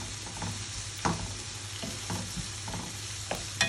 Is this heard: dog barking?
no